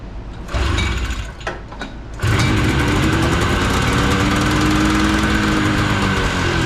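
Yamaha Enticer motorcycle engine with the choke cable removed cranks in short bursts, then fires and settles into a loud, steady running note close by.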